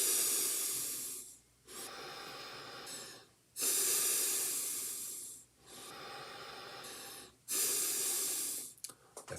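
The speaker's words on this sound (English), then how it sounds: "And then you just breathe in and out through your nose." Slow, deliberate breathing in and out through the nose during a meditative exercise, heard up close as long airy inhales and exhales alternating in a steady rhythm with short pauses between, no talking.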